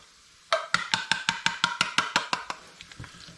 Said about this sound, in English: So let's get all that cheese in here now.